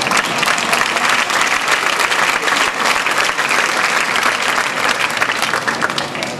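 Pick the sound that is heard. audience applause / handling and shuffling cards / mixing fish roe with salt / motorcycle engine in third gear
audience applause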